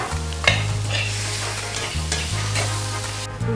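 Tomatoes frying in a pan give a steady close sizzle, with stirring scrapes and a few sharp clinks of a utensil against the pan. A low hum runs underneath.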